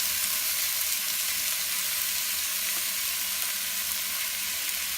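Tomato and spinach fry in a pan with softened onion and garlic for a vegetable spaghetti sauce, making a close, even, continuous sizzle with no talking.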